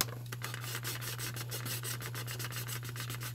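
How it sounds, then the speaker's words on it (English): A sanding sponge rounds off a small scale model part with rapid, steady back-and-forth rubbing strokes, close and fairly quiet over a constant low electrical hum. "taking a sanding sponge, and what that does is it just rounds it off better"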